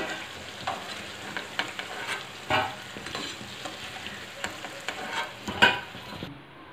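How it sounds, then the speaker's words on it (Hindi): Namkeen khasta deep-frying in oil over a low flame, with a continuous soft sizzle broken by light scraping stirs and occasional louder pops; no one speaks. "इसी तरह इसको हम धीमी आंच पे इसको भी तल लेंगे जितनी मेरी बाकी बची है"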